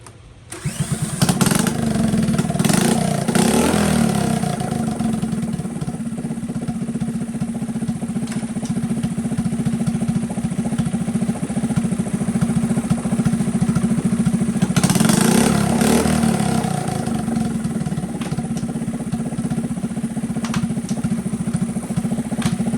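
A Honda CT70 HK0 minibike, lifted on a stand, runs steadily close by with a buzzing single-cylinder drone, swelling into brief revs through the gears near the start and again partway through.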